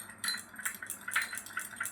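A spoon clinks and scrapes against a bowl while stirring aloe vera gel into a paste, with about a dozen quick, bright taps in an irregular rhythm. The taps are close but fairly quiet, and no one speaks.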